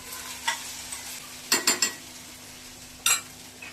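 Okra stirred in a pan over medium heat in a home kitchen gives a few quick scraping spatula strokes and faint sizzles, close and fairly quiet with pauses between.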